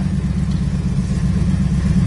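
A 1967 Dodge Charger engine runs steadily, with a loud, close, continuous low rumble that holds an even throb and has no talk over it.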